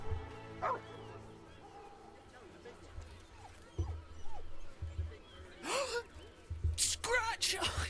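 A dog named Scratch in a video game, yelping and whimpering in short bursts among barks, mixed with speech and scattered game sounds.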